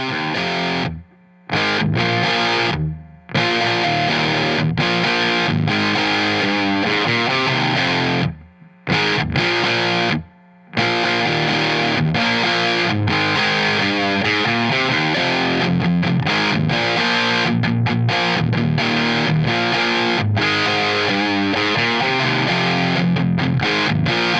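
An electric guitar with P90 single-coil pickups plays a dense, heavily distorted riff, loud and sustained with a few brief stops of silence, close and alone without talk.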